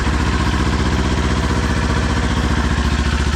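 A Kawasaki Z400 motorcycle with stock exhaust idles close by, a loud, even, pulsing putter that holds steady throughout with no revving or voices.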